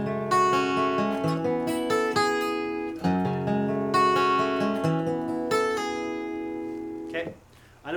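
Acoustic guitar plays a chord transition with a pull-off on the first string, from a song: a few ringing strummed chords with note changes, clear and close, then a fade into near silence at the end.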